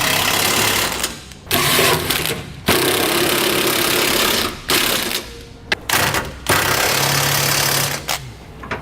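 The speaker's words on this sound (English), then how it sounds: "Okay, now we can snug down all of our hardware." A power tool snugs down the bolts of a Curt trailer hitch receiver on a 2015 Ram 1500, buzzing and rattling loudly in repeated bursts of a second or two with brief gaps between them.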